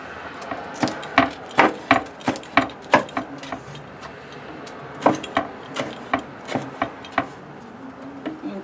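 Red peppers chopped with a knife on a wooden cutting board for a jerk chicken dish: steady, close, woody knocks in quick even bursts, a brief pause midway, then more regular chops.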